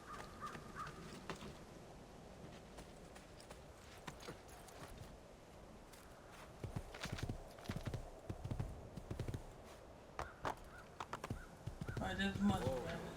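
Horse hooves clip-clop in the Assassin's Creed II video game, a quiet rhythmic trot that grows busier toward the end, with game crows cawing and someone talking over it.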